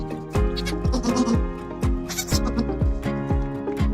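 Goats on a farm bleat repeatedly, with several overlapping wavering cries close by over a low background rumble.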